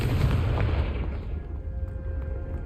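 A Confringo spell blasts in Hogwarts Legacy with a loud booming explosion that rumbles and fades over about two seconds, followed by a faint tonal ring.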